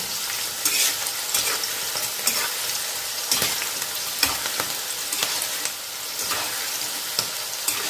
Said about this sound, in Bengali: দেখুন লঙ্কাও ভাজা হয়ে গেছে